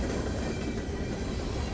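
Freight train carrying trash and auto racks rolls past close by, bound for Binghamton, New York, a loud continuous rumble and roar with faint clickety-clack of wheels and no talk.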